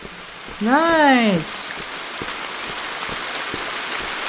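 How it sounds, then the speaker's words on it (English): Steady rain patters across the scene in the video game Hatch, a constant hiss with soft drip ticks. A voice rises over it briefly near the start. "Oh wow, it's raining!"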